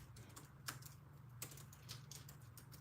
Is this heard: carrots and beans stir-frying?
no